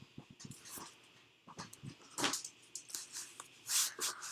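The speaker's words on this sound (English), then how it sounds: "Sorry for any background noises, that is probably my dog." A pet dog makes scattered background noises indoors: faint, irregular shuffles, taps and breathy sounds that come and go in short bursts.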